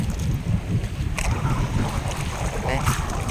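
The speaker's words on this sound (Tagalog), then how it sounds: "umahangin-hangin ang amihan" Wind gusts buffet a long line fishing boat at sea off Matitios in the Philippines under a cloudy sky, a steady low rumble of wind noise and water with a brief hiss of a stronger gust, no talk.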